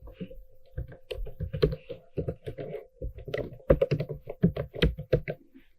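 Fingers type a password on a computer keyboard in quick irregular bursts of close, crisp key clicks, with short pauses between runs.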